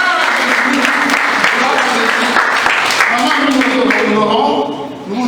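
A congregation at a gospel church breakfast gathering in Togo applauds steadily and loudly throughout, a dense wash of clapping mixed with voices and cheering that fades slightly at the end.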